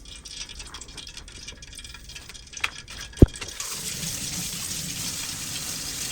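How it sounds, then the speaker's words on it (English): Water poured into a bowl of potato starch for tangsuyuk batter, a few clinks and rattles first, then a steady gushing pour that runs on to the end, close and fairly loud. "Okay, and all we gotta do now is add some water."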